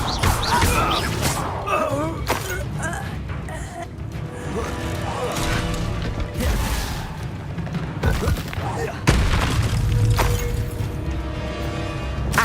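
Confringo, an explosive spell, blasting in a magic combat game, with scattered booms and crashes amid busy effects and a voice speaking over the action.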